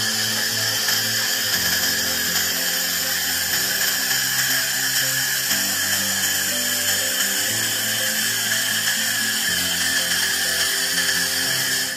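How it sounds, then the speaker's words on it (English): A 400W laser cleaning machine working over welded seams: a steady, loud, high whine with shifting buzzing tones underneath, constant for the whole stretch with no talking. "Laser cleaning of welded seams with stray colors"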